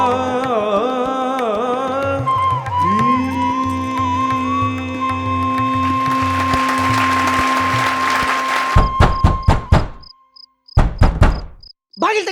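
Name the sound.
knocking on a door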